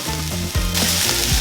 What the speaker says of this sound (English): I'm now going to add the ginger and garlic. And then fry for about another minute, 2 minutes.